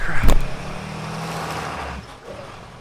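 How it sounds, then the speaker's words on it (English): A pickup truck on a shed-building site starts moving with a brief loud thump and rumble, then its engine idles in a steady low drone that drops off near the end, with no voice. "I need to move the truck over here"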